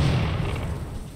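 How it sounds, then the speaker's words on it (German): Explosions in the RimWorld colony game, including exploding radioactive atomic silos, roll together into a loud, continuous low rumble of overlapping booms that fades slightly over a second. "Die explodieren ja jetzt auch alle."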